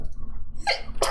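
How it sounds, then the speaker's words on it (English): A single sharp human sneeze bursts out close to the mic near the end, preceded by a short breathy intake, in an otherwise quiet indoor room. "Oh, I'm going to sneeze."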